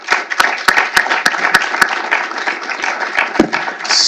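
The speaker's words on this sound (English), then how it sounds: "a round of applause for this great team" Audience applause at a federal lands management event, a dense steady wash of many hands clapping for about four seconds, with a few sharper individual claps cutting through near the front.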